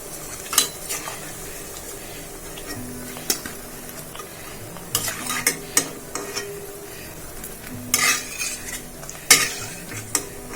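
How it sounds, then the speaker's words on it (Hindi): Pakoras are lifted out of hot frying oil with a metal utensil. Intermittent clinks and scrapes of the utensil against the pan rise over a low, steady sizzle, with a few sharper metallic taps spread across the stretch. "मैं ये पकौड़ी उतार लेती हूँ, बन चुकी है"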